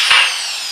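A drill grinds through galvanized steel pipe for a greenhouse frame with a steady, high metallic whir; a brief knock sounds near the start, then the noise eases slightly and runs on close by with no voices.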